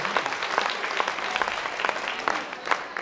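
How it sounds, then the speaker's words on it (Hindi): An audience claps together in steady, moderately loud applause, many hands patting in a dense, continuous patter that carries on for a few seconds. "एक बार ताली बजाओ आप सब, जोरदार ताली।"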